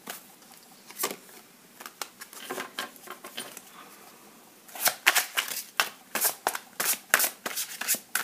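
Tarot cards shuffled and handled: bursts of quick, crisp riffling and flicking, close and fairly quiet, growing denser and louder in the second half, with no voices.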